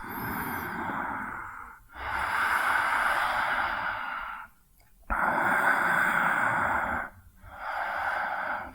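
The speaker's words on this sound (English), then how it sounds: "Let's take 3 breaths." Slow, deep breaths during a hatha yoga flow, four long airy inhale and exhale phases each lasting a couple of seconds, close and steady with brief quiet gaps and no talking.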